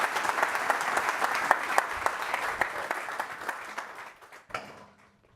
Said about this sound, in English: So if we get a round of applause for the panel and Michael